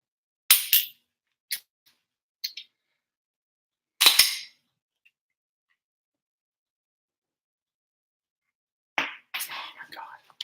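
Sharp, isolated clicks from a pistol trigger being dry-fired with a penny balanced on it, separated by silence, then a burst of quieter clatter near the end.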